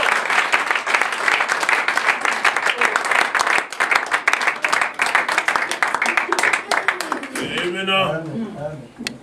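A church congregation breaks into sustained, dense applause and clapping that fills the room for several seconds, then fades as a voice rises near the end.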